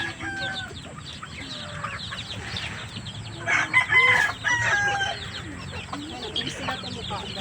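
Backyard chickens cluck steadily while a rooster crows partway through, with overlapping calls from the flock across the whole stretch.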